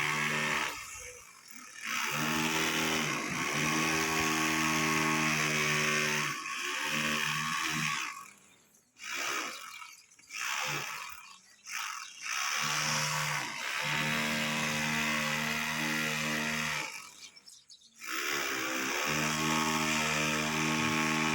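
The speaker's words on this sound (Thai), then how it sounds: "เสียงเจาะนะครับ มาจากหลังบ้านนะครับ" A power drill whines in long sustained bursts with brief pauses between at a house construction site, fairly loud and close, with a steady mechanical hum underneath.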